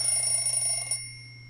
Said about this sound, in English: I realized that the cause of this ringing is my alarm clock.